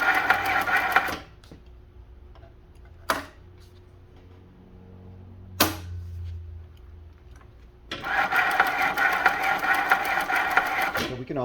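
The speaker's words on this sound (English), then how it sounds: "And now I'm going to actually hold this for a second while I start winding my bobbin." A Juki LS-1341 clone industrial sewing machine winds a bobbin. The motor buzzes loudly at the start, drops to near silence broken by a couple of sharp clicks, then surges back to a steady, close whir.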